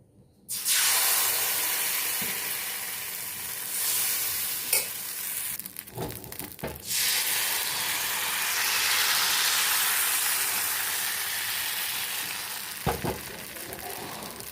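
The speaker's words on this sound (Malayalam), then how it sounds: "എണ്ണ തേച്ച് കൊടുത്ത ചൂടായ തവയിലേക്ക് അപ്പത്തിനുള്ള റാഗി മാവ് ഒഴിച്ചു കൊടുക്കാം" Ragi batter hitting a hot, oiled tawa for appam, producing a loud, steady sizzle and hiss that holds throughout, with a few brief clatters of utensils partway through.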